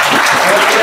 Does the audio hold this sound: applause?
yes